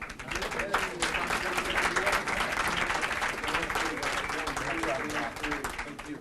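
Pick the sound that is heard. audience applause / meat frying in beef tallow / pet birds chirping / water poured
audience applause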